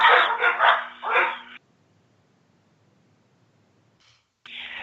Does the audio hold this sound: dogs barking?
yes